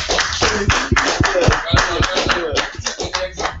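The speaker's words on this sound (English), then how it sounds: "let me a round of applause for the people" A small group on a podcast claps a round of applause, with distinct, close, uneven hand claps mixed with talking and chuckling.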